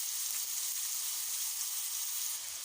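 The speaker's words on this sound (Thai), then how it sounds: "เราก็จะผัดหมูกับ พริกก่อนนะคะ ผัดจนเรียกว่าสุกหอมดีก่อน" Minced pork stir-fries with chilies in a pan for a home-style holy basil and long bean dish, giving an even, steady hissing sizzle heard up close with no talking.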